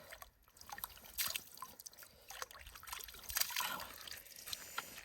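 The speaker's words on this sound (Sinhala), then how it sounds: "හෝටන් තැන්නේ තියෙන්නේ පිරිසිදු වතුර" Clean water trickles and splashes in the open at Horton Plains, with irregular bursts of dripping and pouring close by, louder around the middle, alone without talk.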